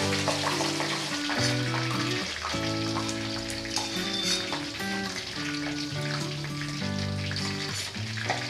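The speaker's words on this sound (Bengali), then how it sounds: "এগুলো হালকা ব্রাউন করে একটু ভেজে নেব।" Cubed onions fry in oil until light brown with a continuous crackling sizzle, heard beneath loud melodic background music.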